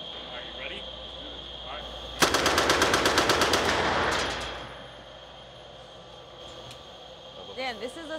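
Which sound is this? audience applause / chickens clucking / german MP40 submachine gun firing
german MP40 submachine gun firing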